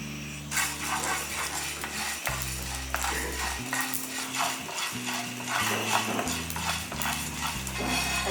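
A spoon scrapes and stirs black peppercorns and other dry spices as they roast in a hot pan, in a steady rhythm, with background music playing throughout.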